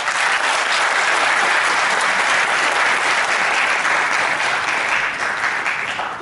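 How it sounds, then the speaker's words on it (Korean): Dense, sustained applause from an indoor audience honours a provincial councillor at an education association's training event. It stays loud and even throughout, with no talk over it. "다시 한번 윤창욱 도의원님께 뜨거운 박수 부탁드리겠습니다"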